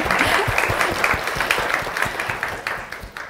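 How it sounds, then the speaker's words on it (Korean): Lecture-hall audience applauding at an essay talk on learning Chinese, a dense, steady wash of many hands clapping throughout, loud and close, with no talk over it. "다시 한번 박수."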